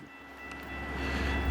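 A Metra commuter train arriving, a low rumbling roar with steady tonal whine that builds gradually in loudness as it draws nearer, with no talking.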